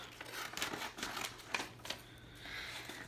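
Scissors snip steadily along straight lines through paper to cut out a box, giving a quick run of close, crisp cuts with light paper rustling and no talk.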